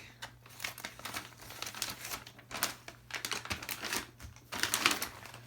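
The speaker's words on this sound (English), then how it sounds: "So let's go ahead and cut this bag open and see what they look like." A plastic bag holding charcoal air purifier bags is cut open with crinkling, snipping and rustling plastic sounds in irregular bursts close to the microphone, with no talking.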